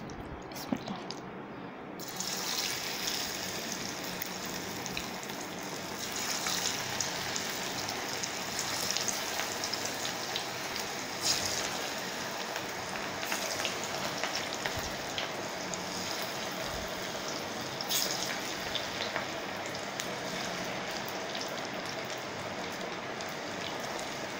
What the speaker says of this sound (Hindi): ऑयल अच्छी तरह प्री हीट हो गया है अब हम इसमें पकौड़े डालेंगे